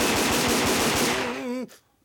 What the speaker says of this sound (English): Dang show pistols, I forgot. They're loaded with blanks.